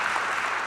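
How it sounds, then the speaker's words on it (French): A brief burst of audience clapping at a debate tournament, a dense wash of many hands close together filling the moment with no voices over it. "on peut applaudir et la question et la réponse"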